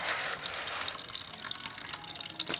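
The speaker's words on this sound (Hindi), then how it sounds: "डालने के साथ साथ अब इधर से पानी भी निकलना शुरू हो गया है" Water trickling and splashing out of the outlet of a sand water filter as sand is poured in, a soft, steady flowing wash with small bright splashes, faint and close.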